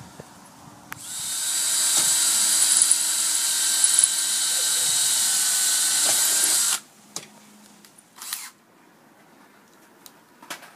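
A power drill driving screws through plywood into a metal frame whirs steadily at high pitch for several seconds, then stops abruptly, followed by a few brief bumps and a short buzz of the tool.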